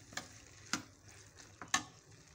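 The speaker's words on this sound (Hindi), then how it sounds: "चलो अब हम इसको अच्छे से मिक्स कर लेते हैं।" A spoon stirs spices into cooked black chickpeas with three soft, wet scraping taps against the pot, quiet and close, with no talking.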